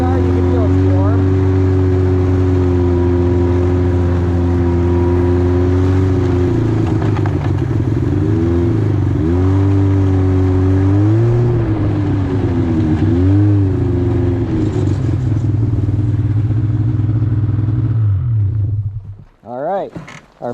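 A snowmobile engine runs close and loud in northern Michigan, with a steady droning idle whose pitch rises and falls with throttle changes, then cuts out abruptly near the end.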